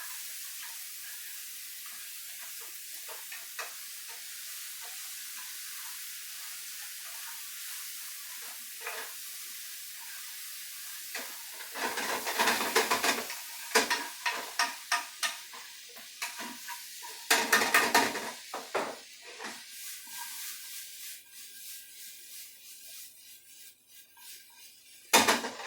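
Shrimp seasoned with pepper sizzles steadily in a hot pan, then gets tossed and stirred. Bursts of louder spattering scrape and hiss in a rough rhythm, close up, with no talk.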